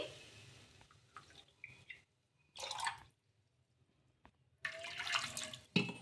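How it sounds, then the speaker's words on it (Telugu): Water is poured into a pan of toasted rava for a breakfast dish in two separate close bursts of splashing, with quiet gaps and small drips between them. "ఇందులోకి ఒకటిన్నర కప్పు నీళ్ళు అయితే వేసుకోవాలి"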